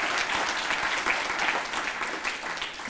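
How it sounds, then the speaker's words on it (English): Audience applause at an annual dinner, a steady wash of many hands clapping together at moderate loudness, holding evenly for a few seconds with no voices over it. "And you guys can give an applause for the fact that it's no longer public."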